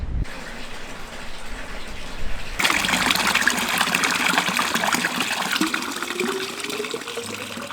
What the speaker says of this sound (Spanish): En los pueblos podremos encontrar fuentes donde rellenar agua